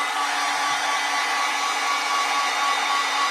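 A hair dryer dries a watercolor painting of snowdrop flowers, giving a continuous, even airy roar from start to finish with no voices.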